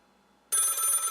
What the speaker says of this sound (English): Rats, I think that I forgot to turn off my phone, and now someone's calling me.